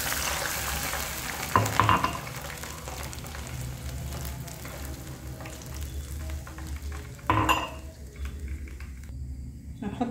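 Two cups of water pour into a hot pot of browned sayadieh rice base, setting off a steady loud sizzle and bubbling with sharper hissing bursts near the start and again later.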